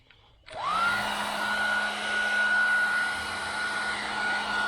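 Heat gun switching on and blowing a steady, loud whine with a high airflow hiss as it heats the bent body metal of a 1978 Chevy Nova, running continuously nearby.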